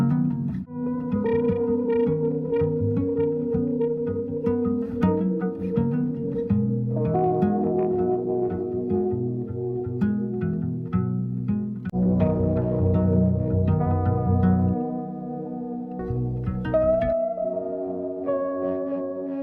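Layered synthesizer pads form a dense, continuous ambient texture, sustained chords shifting slowly with echoing, effected tones and no voices.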